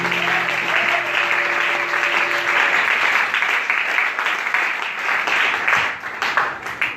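A church congregation claps loudly and steadily throughout a worship service, with cheering mixed into the dense, sustained applause.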